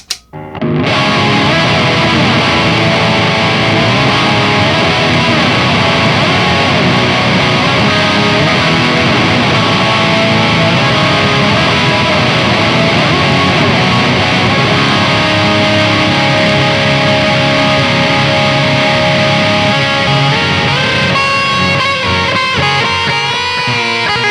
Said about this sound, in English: it quickly engages the reverb and the delay